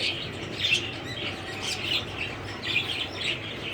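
Several finches chirp and twitter continuously in quick, high bursts, fairly close, over a steady background hum.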